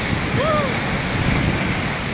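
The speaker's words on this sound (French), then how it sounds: "Ah ça pleut là." Heavy storm rain and gusting wind roar steadily and loudly outdoors beside trees, a dense unbroken wash with a brief faint whistle-like tone near the start.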